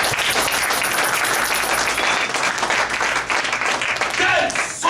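A church congregation applauding, a dense continuous wash of many hands clapping throughout, steady and fairly loud, with faint voices mixed in.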